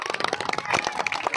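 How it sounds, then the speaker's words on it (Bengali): A short burst of scattered hand clapping for the winning team at a village games gathering, a few people applauding together at fairly close range. "জিতা দলের জন্য আমরা একটা হাততালি দিই সবাই"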